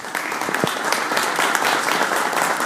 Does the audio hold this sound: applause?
yes